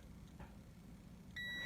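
A Tusy heat press machine's timer beeps in a steady, continuous electronic tone that starts near the end, loud over a low background hum.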